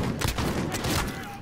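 Rapid gunshots ring out during a point-blank gunfight in a video game, a dense burst of cracks packed into a second and a half over steady background game noise.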